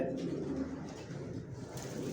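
Racing pigeons of the Bali Johnson line coo softly inside their loft, a faint, steady, low murmur of overlapping calls with no clear breaks.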